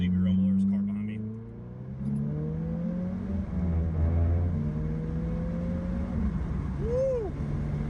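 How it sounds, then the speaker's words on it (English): A 2022 Subaru WRX fitted with a custom catback exhaust rumbles steadily while driving, its engine note rising and falling with the revs, heard from inside the car with some wind noise. "I actually hear a little bit of that Subaru rumble"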